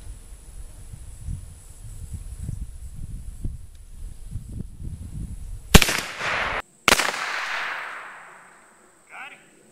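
A single sharp shot from a .32 caliber replica muzzleloading rifle fired at a squirrel in a pine tree about 20 yards away, a loud crack with a trailing echo, followed by a second burst after rustling and quiet outdoor movement.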